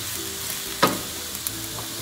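Fresh green peas frying in a pan for vegetable biryani, a steady close sizzle with one sharp burst of crackle near the middle, no voices.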